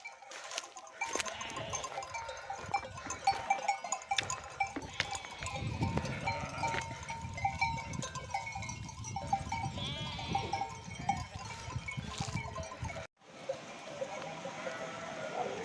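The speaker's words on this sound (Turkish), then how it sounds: "Şimdi koyunlar girsin yavaşça" A flock of sheep bleats repeatedly over a busy outdoor din in front of the fold, with clanking bells and shuffling movement nearby.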